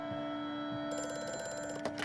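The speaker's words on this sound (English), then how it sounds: "Telephone's ringing." A telephone ringing inside the horror video game Amnesia: A Machine For Pigs, a steady electronic bell tone heard clearly over a faint low ambient drone, with no talking.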